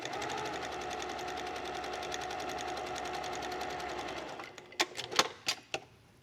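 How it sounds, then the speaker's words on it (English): A domestic sewing machine runs a seam on dressmaking fabric, giving a steady, close, rapid whirring hum for about four seconds. The motor then stops, followed by a few sharp clicks and knocks. "So I'm just going to lay this on top and just sew."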